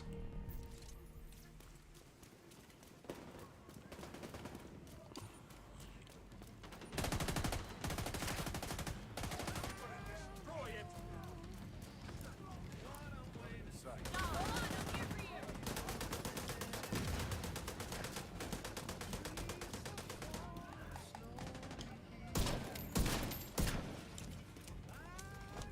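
Gunfire in The Division 2 during a Reanimated global event, a dense stream of rapid shots and bursts rattling over a constant background and coming in clustered volleys, with a voice talking at times.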